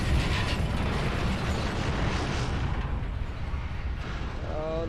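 A building collapses in the video game Binary Domain with loud, continuous rumbling, grinding and creaking debris that swells early and then thins slightly, and a voice briefly cuts through near the end.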